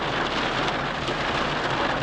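Heavy rain drums steadily on a car in the Yercaud hills at dusk, a dense, close, continuous hiss and patter with no talk.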